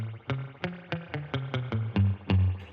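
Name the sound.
surf-style spring reverb boing on guitar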